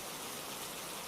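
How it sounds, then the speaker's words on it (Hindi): Steady rain falls through a dark, wet night, a continuous even hiss of drops that stays loud and unbroken throughout, with no voices present. "बारिश अब भी लगातार हो रही थी"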